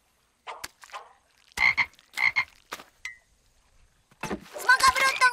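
Cartoon frogs croak in a series of short, separate croaks with gaps between them, followed by a louder, busier burst of croaking at the end.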